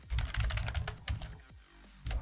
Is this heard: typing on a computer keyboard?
yes